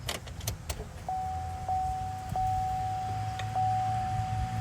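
Car keys jangle briefly as the ignition is switched on, and a steady electronic chime tone comes on and holds. A low hum continues underneath and there is no talking.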